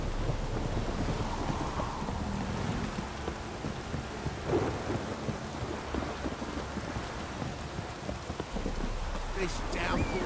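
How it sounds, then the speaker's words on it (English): Steady heavy rain in a video game, The Witcher 3: Wild Hunt, pours down with rumbling thunder rolling underneath, a dense, continuous downpour with occasional sharper drops and faint background voices. "This downpour's a bastard"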